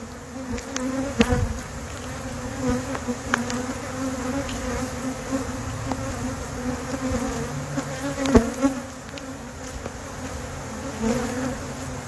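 Honey bees swarm around an open hive in a continuous close buzzing drone, with single bees zipping past the ear now and then, no talking.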